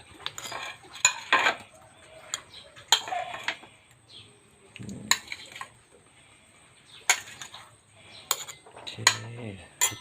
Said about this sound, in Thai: ก็ต้องตำแหลกใส่กุ้งลงไปจ้ะ